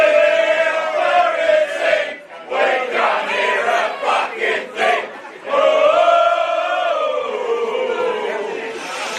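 Football crowd at Alfred Skeet Reserve during an Armadale SC versus Floreat Athena FC men's NPL West match, a loud sustained roar and chanting from the stands that dips briefly before swelling again.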